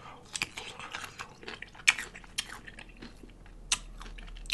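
Crunchy pickle bitten and chewed close to the microphone at a deli corned beef meal, a run of sharp wet crunches and softer smacking, irregular and fairly quiet.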